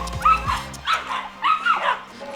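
A female Belgian Malinois barks close by in three quick bursts of high, yelping barks with short pauses between them.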